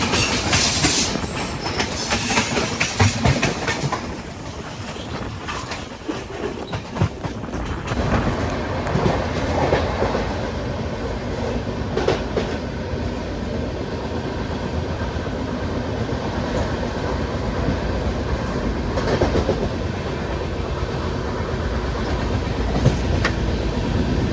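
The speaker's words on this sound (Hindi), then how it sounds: "हजरत निज़ामुद्दीन विशाखापट्टनम स्टील समता सुपर फास्ट एक्सप्रेस जो कि एंटर हो रही है मथुरा जंक्शन में" Samta Superfast Express, a Hazrat Nizamuddin–Visakhapatnam train, rolls into Mathura Junction with a steady loud rumble and rhythmic clickety-clack of wheels over rail joints, continuous throughout with no talking.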